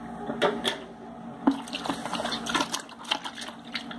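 Soapy water sloshes and trickles in a basin as soap is stirred in for washing cloth diapers, a steady run of close, small splashes and drips with a few sharper sloshes.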